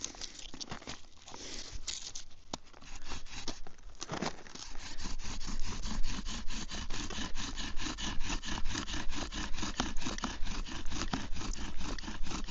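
Bow drill spindle driven against wood to make fire in a snowy winter setting, a fast rhythmic scraping and squeaking friction that starts irregular and settles into steady back-and-forth strokes, close and moderately loud.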